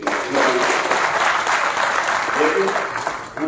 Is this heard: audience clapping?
yes